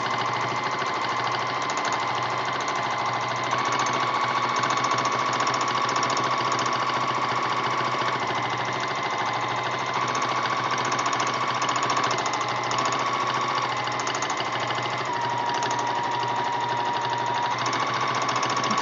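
Sewing machine running steadily during free motion quilting with stippling, a continuous close, rapid mechanical hum and needle rattle with no pauses.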